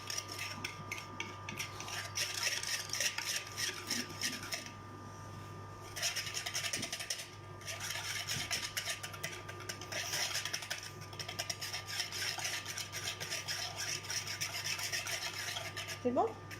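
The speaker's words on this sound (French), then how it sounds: "la farine, hop, les 80 g de farine de tout à l'heure, le sucre avec le fouet. Hop. Allez, je te laisse mélanger" A whisk scrapes and rasps steadily against a bowl while mixing flour and sugar for a chocolate cake, a continuous rough rubbing with brief pauses and a faint background hum.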